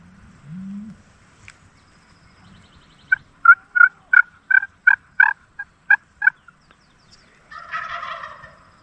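A wild turkey gobbles in a quick rattling series of about eight notes, moderately distant in Spenceville Wildlife Area, California, with faint rustling before and a brief call afterward.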